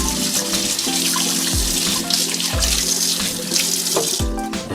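A tap runs into a sink during hand washing, a loud continuous splashing stream with shifting gurgles and splatters as hands move under it, no voices.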